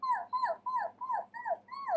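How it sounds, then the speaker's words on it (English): A puppy whimpers in a run of six short, high, falling whines, evenly spaced, close and fairly soft, with no other sound around them. "It was a gentle whimper coming from somewhere near the grass."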